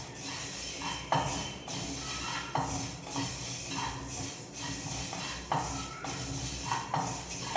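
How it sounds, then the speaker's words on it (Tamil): Dry rasam spice mix roasting in a hot pan at home, stirred and scraped with a utensil in repeated strokes, with faint sizzling and metal clinks against the pan, fairly quiet and steady. "வறுக்கும்போதே உங்களுக்கு அதோட வாசனை எல்லாம் வரும்"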